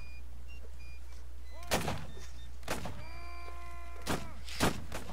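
Several gunshots and booming cannon blasts from a Napoleonic-era battle in the video game Mount & Blade: Napoleonic Wars, sharp bursts spread over a few seconds against a steady low hum and thin tonal whines.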